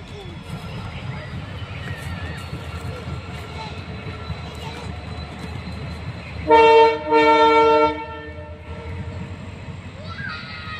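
A train rumbles steadily nearby, then sounds its horn in two loud blasts, with faint voices in the background.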